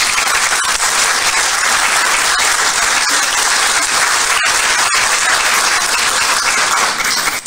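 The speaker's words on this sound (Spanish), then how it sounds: "Un aplauso para Byrne." An audience claps loudly and continuously for several seconds at an exhibition event, a dense, sustained applause without pause.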